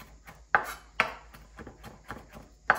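A knife mincing garlic knocks on a cutting board in about half a dozen irregular, close, crisp strikes, a few landing much harder than the rest.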